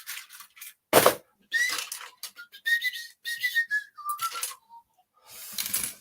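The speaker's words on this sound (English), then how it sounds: "I don't know if you're allowed to whistle copyrighted songs on stream or not." A person whistles a melody in a string of short, clear notes, up close and on their own. Intermittent plastic clicks and rattles from building a model gunship break in now and then.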